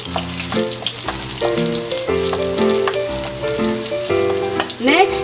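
Garlic sizzles in a hot pan as the first step of ginataang chicken wings, chicken simmered in coconut milk. A steady, crackling fry runs throughout beneath clear background music.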